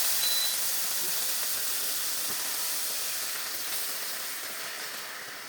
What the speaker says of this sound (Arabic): ننزل اللحمة على النار